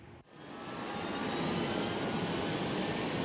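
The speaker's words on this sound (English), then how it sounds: "Out on the flight line at NAS Jax, one plane is getting ready to head to Houston to help in the search and rescue efforts there." A Navy P-8 Poseidon patrol aircraft on the flight line at NAS Jacksonville: after a short thump, a steady loud jet engine roar swells up and holds as a continuous broadband whine, close by, with no talking.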